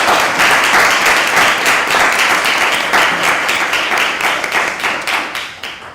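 Audience applause greeting Professor Moon at a talk on peace, security and diplomacy on the Korean peninsula, a loud steady wash of many hands that thins slightly toward the end.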